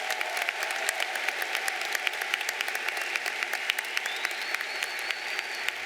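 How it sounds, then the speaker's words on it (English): A commencement crowd at a university graduation claps steadily, dense sustained applause from a large audience with a few sharper nearby claps standing out, continuing unbroken throughout. "Let's give them all a round of applause."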